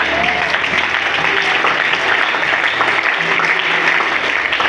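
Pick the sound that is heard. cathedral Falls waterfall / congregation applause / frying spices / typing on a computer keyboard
congregation applause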